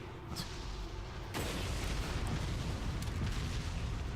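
An explosive barrel blows up in Resident Evil 4 with a sudden loud boom, followed by a sustained roaring, crackling rumble that fills the remaining seconds amid ongoing game noise.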